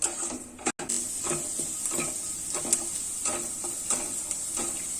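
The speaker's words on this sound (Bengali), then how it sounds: "এই পেঁয়াজটা এবার ভাজা হয়ে যাচ্ছে আধে।" A small onion frying in a pan for paneer butter masala gives a steady, close hiss, broken by soft scraping and stirring clicks. No one speaks.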